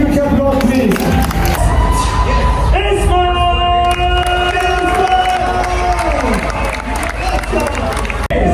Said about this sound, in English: Give them a huge applause, please.